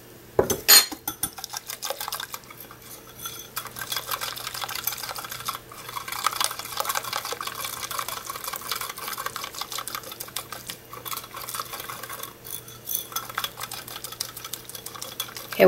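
A whisk beats lumpy caramel chai protein pancake batter against the sides of a bowl, producing a fast, steady clatter and scrape that runs continuously and close, with a few sharper knocks at the start and no talking.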